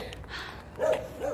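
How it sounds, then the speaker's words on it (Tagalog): A dog, a guard dog, gives two short barks outdoors, one near the middle and one toward the end, against a background of outdoor noise. "Kailangan ba lahat dito may aso?"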